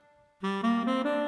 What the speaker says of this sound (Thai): แอคคอร์เดียน